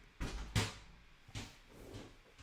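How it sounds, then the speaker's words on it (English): A basketball thumps against a door at home, two quick hollow knocks close together followed by a fainter third bump, faint and in the background. "My son just hit my door with a basketball."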